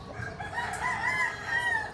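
A rooster crows close and loud in one sustained, wavering call lasting about two seconds.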